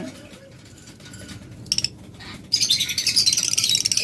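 Pet lovebirds and budgerigars chirp in bursts, with brief calls midway and then a dense, lively flurry of tweeting over low room noise.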